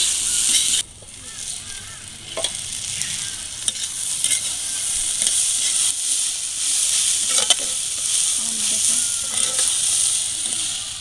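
Vegetable bhaji frying in a pan on a village kitchen stove, with a loud, continuous hiss of oil and intermittent scraping stir strokes throughout, close up and alone.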